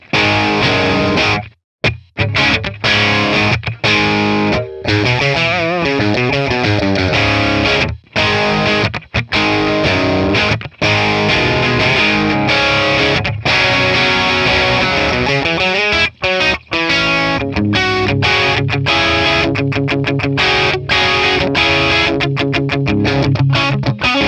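A Les Paul guitar plays through a captured Vox AC15 amp on the crunch bright channel, giving a distorted, driven tone of strummed chords and riffs with brief pauses between phrases.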